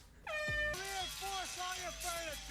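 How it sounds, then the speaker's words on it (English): Blaring air horn sound effect in a She-Hulk episode, a sharp horn blast followed by a rapid series of descending honks, loud and brassy. "this is going to be the air horn thing, isn't it?"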